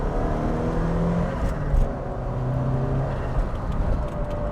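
A Lancia Delta Integrale Evo 1, a 1990s hot hatch, accelerating hard through second gear on a road, its engine note rising as a sustained, loud drone heard from inside the car.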